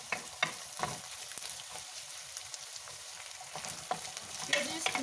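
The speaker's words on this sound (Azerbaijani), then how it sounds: "Biraz da markovumuzla qovrulduqdan sonra düyümüzü əlavə edəcəyik." Meat, onion and carrot fry for Uzbek plov, a quiet steady sizzle broken by irregular spatula scrapes and taps against the pot, close but fairly soft, with no talking.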